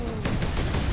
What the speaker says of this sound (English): Stop shooting rockets at me!